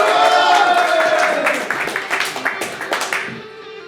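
Audience applause during a French esports event opening, a dense burst of clapping that gradually thins into scattered individual claps before fading out.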